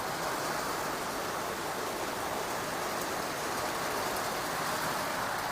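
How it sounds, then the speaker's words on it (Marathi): Heavy monsoon rain falls as a dense, steady wash of noise, unbroken and even throughout, with no voices. "जबरदस्त अशी पावसाची सुरुवात झालेली आहे."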